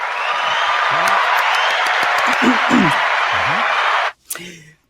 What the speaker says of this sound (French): Attends, j'ai mis mes applaudissements.